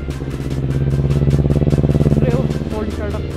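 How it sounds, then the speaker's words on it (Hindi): A Kawasaki Ninja 250 motorcycle idles after a cold start, its engine putting out a loud, close, rapid pulsing throb that stays steady and then dips slightly at the end. "हमारे साथ निंजा 250 जुड़ चुकी है और अभी हम इसका कोल्ड स्टार्टअप आपको सुनाने वाले हैं।"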